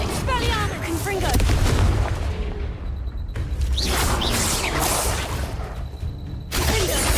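In Hogwarts Legacy, repeated Confringo blasting spells go off in loud booms and crackling bursts with whooshes amid combat noise, while a player talks over the action.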